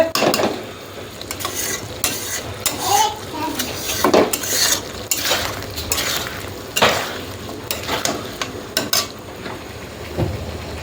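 Spices for a bhetki fish and potato curry sizzle in a pan as a spoon scrapes and stirs steadily. The clatter of metal on the pan and the frying hiss come through close and fairly loud with no talk.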